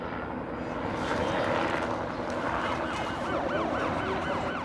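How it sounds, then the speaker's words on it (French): A city ambulance siren wails in repeated rising and falling sweeps at a middle distance over a low aircraft-like engine rumble and general urban hum, with no speech. "C'est une sirène d'ambulance."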